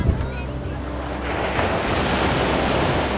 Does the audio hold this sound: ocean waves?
yes